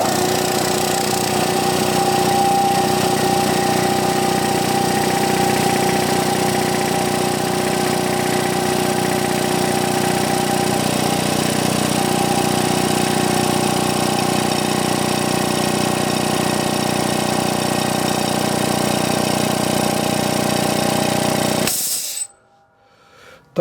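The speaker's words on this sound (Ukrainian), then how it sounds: "Так, зараз пробуємо запускати ще раз. Так, розганяємо масло по компресору два рази і поїхав." A FORTE ZA65/50 air compressor runs steadily after repair, a loud continuous motor drone with rhythmic pumping pulses, holding constant for over twenty seconds before cutting off abruptly at the end.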